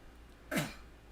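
A single short, sharp sneeze bursts out once against a quiet background.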